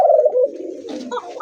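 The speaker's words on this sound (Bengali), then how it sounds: "অরিজিনালি অ্যারাবিয়ান কোকা কবুতর তাই না ভাই?" Arabian coca pigeons cooing up close, a low rolling coo that swells and repeats across the moment with a soft higher chirp near the end; no talk.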